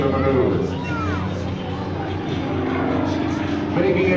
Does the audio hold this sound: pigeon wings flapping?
no